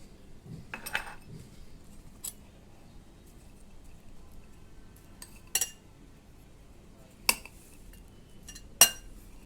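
A spoon clinks and scrapes against a bowl while chana chaat is mixed with mayonnaise, with sparse sharp taps over a quiet, soft stirring background.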